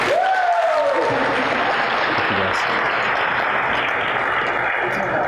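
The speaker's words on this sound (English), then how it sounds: "Let's give them a clap" Sustained audience applause fills a talk on kindness, dense and steady clapping from a crowd throughout, with a brief whoop or cheer near the start and faint voices mixed underneath.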